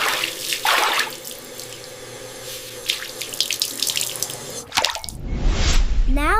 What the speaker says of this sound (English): Now I will go to the bathroom to wash my face and make wudu to pray Duha.